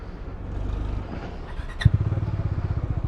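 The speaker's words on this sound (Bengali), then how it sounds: "এখন বাইক স্টার্ট দিচ্ছি" A motorcycle engine at a village roadside tea stall, stopped at first, then coughing into life with a sharp start about two thirds in, settling into a close, rhythmic low putter.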